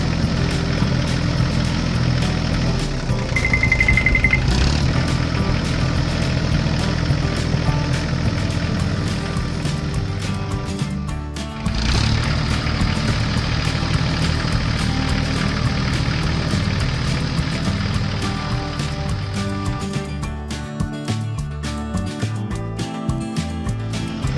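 Yellow tractor pulling a large trailer on a hilly road: a steady loud engine drone throughout, briefly dipping midway, with no talk.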